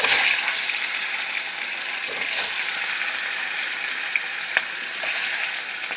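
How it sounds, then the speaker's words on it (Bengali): Fish frying in hot oil in a home kitchen: a loud, steady, dense sizzle throughout with a few faint clinks and pops, no talking. "আর আমি এইদিকে মাছ ভাজা করে নিচ্ছি মাছের ঝোল করার জন্য"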